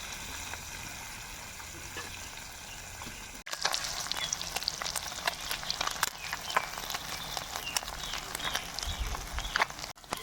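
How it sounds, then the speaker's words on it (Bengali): Fish fries crisp in hot oil, a dense crackling sizzle that grows louder partway through and holds steady close to the pan. "মাছগুলো কিন্তু কড়া করে ভেজে নিয়েছি"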